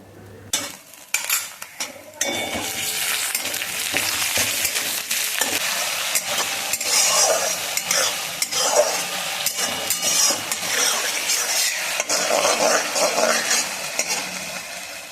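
Spoonful of ginger paste sizzling and spitting in hot oil over browned chopped onions, stirred with a metal spoon that scrapes and clinks in an irregular rhythm, loud and close with no voices.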